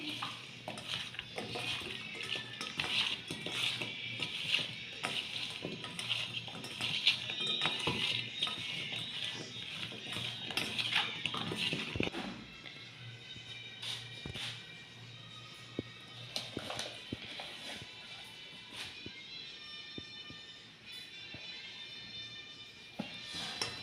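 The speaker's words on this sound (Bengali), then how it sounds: "কর্নফ্লাওয়ারটাকে ভালোভাবে মিশিয়ে নেব।" Baby corn is mixed with cornflour in a bowl, giving steady scraping, clinking and stirring sounds from a utensil against the bowl, busy at first and then sparser with occasional knocks.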